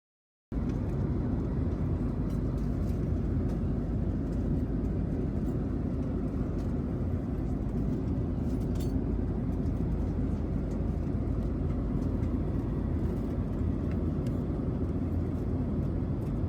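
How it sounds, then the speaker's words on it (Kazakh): Steady, loud airliner cabin roar as the plane prepares to land, a dense unbroken drone of engines and airflow filling the whole stretch with no talk. "Уважаемые пассажиры, наш самолет готов к посадке."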